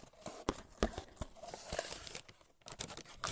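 Close, irregular crinkling of a plastic packet, with sharp rustles and crackles coming in quick, uneven bursts.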